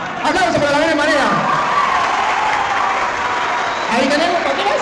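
A large church audience breaks into loud sustained applause with cheers and whoops, while a voice carries over the clapping.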